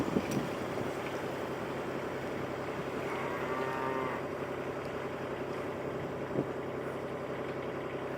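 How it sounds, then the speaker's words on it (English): Cows mooing beside the Oxford Canal, a long low moo standing out clearly over the steady idling hum of a canal boat engine nearby. "Here the cows are getting very close to the traffic on the canal."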